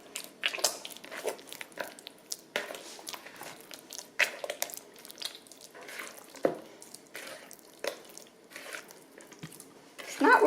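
Wet, sticky sourdough dough squeezed and pinched by hand in a bowl: soft, irregular squelches and clicks, close and faint, with long gaps between them.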